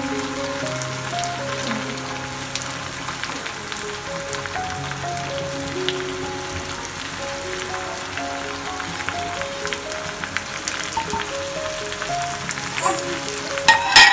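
Masala with tomatoes and spices fries in a pan for biryani, making a dense, continuous rain-like sizzle with occasional stirring. Soft tonal background music runs underneath, and no one speaks.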